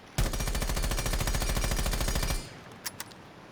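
Rapid automatic gunfire from a weapon in Rainbow Six Siege rattles in a loud, steady burst for about two seconds, then cuts off, leaving a couple of faint clicks in the quiet after.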